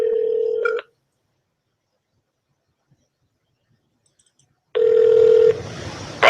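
Telephone call to an aerospace company's phone system, with a steady tone cutting off into silence, then another tone and line noise returning loudly near the end.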